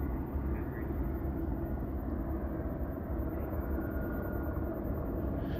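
A police helicopter circles over a residential neighborhood after a shooting, its rotor and engine making a steady, continuous low rumble that holds at an even loudness throughout.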